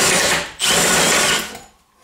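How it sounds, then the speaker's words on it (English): A paddle bit bores through a wooden brace inside a kitchen cabinet, giving a loud, steady power-drill whine for about a second and a half that drops briefly near the start, then winds down to near quiet. "I'll go ahead and just get this one drilled."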